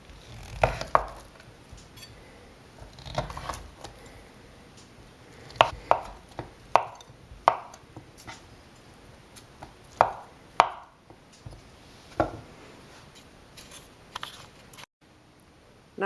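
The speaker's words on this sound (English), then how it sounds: "chop the cheese into bite-sized cubes" A knife chopping paneer cheese into bite-sized cubes on a board, making a series of irregular, close, crisp thuds spaced a second or two apart over a quiet kitchen background.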